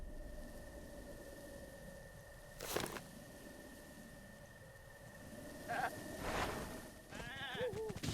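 A goat bleats in The Legend of Zelda: Breath of the Wild, two or three wavering, nasal calls near the end over a steady tonal drone and some clattering sounds.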